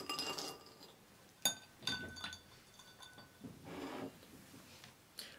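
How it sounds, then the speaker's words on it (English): Ice cubes dropped into a glass of cold water, a few sharp glassy clinks and clunks spaced out over several seconds, fairly close and quiet with no talk. "And then we're going to add a few ice cubes in here."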